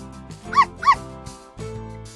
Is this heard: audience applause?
no